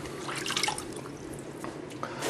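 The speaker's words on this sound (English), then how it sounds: "we're going to place our head directly in there and make sure it's all underwater" A calf skin banjo head being placed into a sink with about two inches of lukewarm water gives soft, close sloshing and drips, a steady wet wash ending in a brighter splash.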